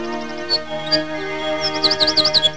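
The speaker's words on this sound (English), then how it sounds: "That's the song of the wren, known in some circles as the king of the field." A wren sings in an animated fairy tale over a sustained musical score: a few isolated high chirps give way to a quick rippling run of bright notes, light and fairly close, with no talking.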